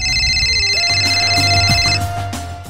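A telephone rings with a steady, bright electronic bell for about two seconds, then cuts off, leaving low background noise.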